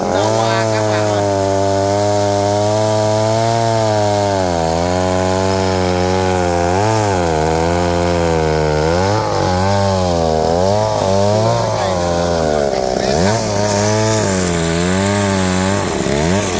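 A chainsaw runs loud and steady on a large tree being cut up for loading onto a boat in Vietnam, its engine pitch rising and dipping continuously throughout with no pauses.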